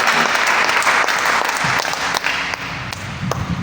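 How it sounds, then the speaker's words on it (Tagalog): A church congregation claps after a scripture reading, a broad wash of steady applause from many hands, loud and continuous before easing slightly toward the end. "Palakpakan po natin ang pagbasa sa kanyang mga salita"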